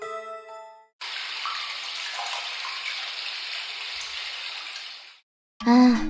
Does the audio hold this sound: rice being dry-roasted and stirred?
no